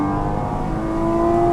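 A Porsche 981 Cayman with PDK gearbox, dropped into second gear on an open road, revving hard: a strong, steady, rising engine note with a clear whining tone, close and continuous with no talking.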